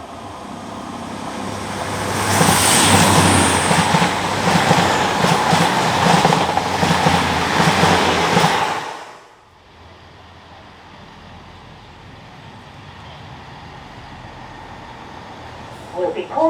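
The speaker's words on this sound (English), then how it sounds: "So now on the train leaving Filton Abbey Wood, heading towards Ashley Down." A train leaving Filton Abbey Wood station towards Ashley Down in Bristol, heard as a loud, steady rumble and rail clatter that cuts out sharply to a quieter hum, as if a door closes.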